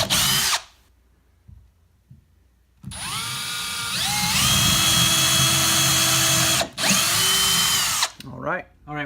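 A power drill pre-drills holes for lag bolts while a TV wall-mount bracket is installed, whining loudly in two sustained runs with rising pitch as it spins up, separated by short pauses and a brief burst at the end.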